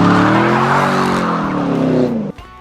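A 2012 Chevrolet Camaro ZL1 lets out a loud, sustained tire squeal with a steady engine drone underneath, then cuts off abruptly near the end.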